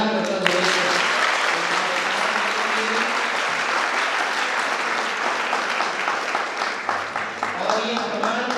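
Loud, sustained applause from an audience at a degree distribution ceremony, honoring medal-winning female students, clapping steadily for several seconds.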